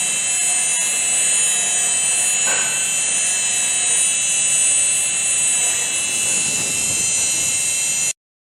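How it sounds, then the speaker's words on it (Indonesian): A dental drill runs steadily during a Class III glass ionomer tooth restoration, following a cavity outline: a continuous high-pitched whine that holds throughout, with a faint clink, then cuts off abruptly near the end. "Kita bor sesuai outline yang sudah kita buat."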